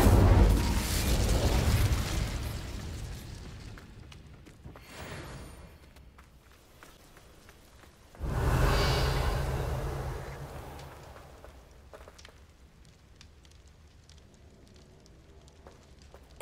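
A fire spell cast in a magic duel, two roaring whooshing bursts of flame, each swelling quickly and then fading out slowly, with quieter crackles between them.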